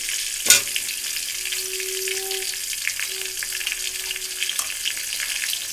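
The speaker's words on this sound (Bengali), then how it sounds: "এবার আলুগুলো সব দিয়ে দিচ্ছি ফ্রেন্ডস তেলের ওপরে।" Potatoes hit hot oil in a pan with a sharp splashing burst, then settle into a steady sizzle and crackle that continues evenly, with a faint tonal hum in the background.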